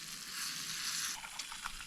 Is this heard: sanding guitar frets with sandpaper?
no